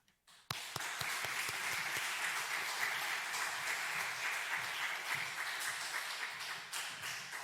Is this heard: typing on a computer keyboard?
no